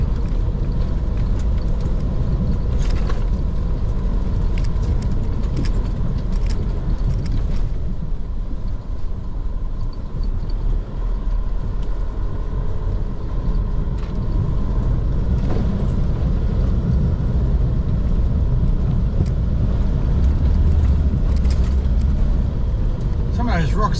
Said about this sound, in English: Those rocks are pretty loose under there, but there's a reasonable surface to drive on